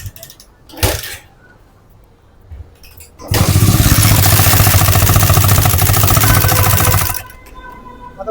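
Bajaj Pulsar BS3 motorcycle engine with a fault, running loud and steady with a rough mechanical clatter for about four seconds after a short quieter stretch, then cutting off; voices are briefly heard before it.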